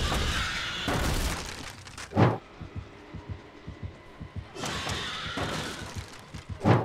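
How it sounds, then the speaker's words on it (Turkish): A breakable wall is smashed by the killer in Dead by Daylight: two heavy crashing, shattering bursts with sharp thuds between and after, loud and close, with no talking. "Gelelim kırılabilir duvarı kırma animasyonumuza."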